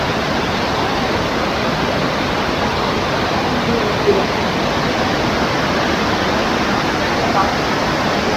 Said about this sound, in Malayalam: വെള്ളം അവിടെ നിന്ന് ഒഴുകി വന്നിട്ട് പിന്നെയാണ് ഫോൾസിലോട്ടായിട്ട് ഇങ്ങനെ പോകുന്നത്